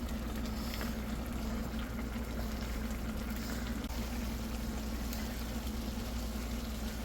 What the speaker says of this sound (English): I've got the Graziano sausage and the hamburger cooking here